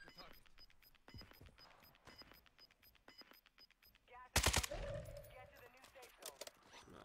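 Gunfire in the Battlefield video game, a sudden loud burst of shots cutting in partway through, with scattered game sounds and teammates talking over voice chat before and after.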